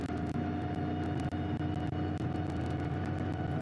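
Onboard engine and road drone of a damaged race car limping back to the garage during the Shanghai 8 Hours endurance race, a steady loud hum with a constant tone and no talk.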